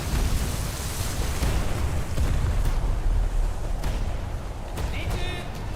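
Torpedo strike on a ship in a naval combat video game, a heavy booming explosion with rolling rumble and scattered bursts, loud and close, followed by brief higher whistling tones.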